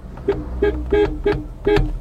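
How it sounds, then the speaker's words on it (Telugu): Five short car horn honks from a Maruti Suzuki Baleno, evenly spaced at close range, each a bright toot with steady harmonics over a low engine hum. "ఒకసారి లెట్స్ చెక్ ద హార్న్."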